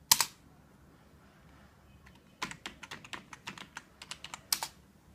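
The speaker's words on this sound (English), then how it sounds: "open terminal and enter the command and then click on enter" Keys clack on a computer keyboard as a command is entered in a terminal, one isolated keystroke burst, a pause, then a quick run of close, crisp taps ending in a firmer press.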